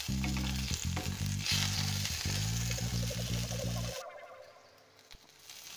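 Whole cumin, a bay leaf and a split green chili tempering in hot oil, a loud crackling sizzle with a low steady hum that drops away after a few seconds, leaving faint frying.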